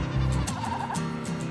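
Baby goats bleat several times in quick succession close by, wavering nasal cries overlapping each other with light background noise and no talking.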